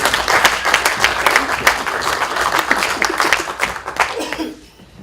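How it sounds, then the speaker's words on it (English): An audience at a Coventry City fan panel event applauds, dense steady clapping from many hands, loud and close, fading out just before the end. "So can we give Mars a round of applause?"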